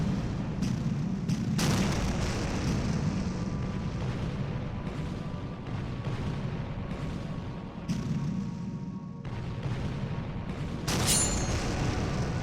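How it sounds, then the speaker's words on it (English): Heavy artillery barrages pound a video game recreation of the Battle of Quatre Bras: dense, continuous rumbling booms and blasts that overlap into a steady roar, with a few sharper bursts standing out. No one speaks. "under heavy artillery barrages"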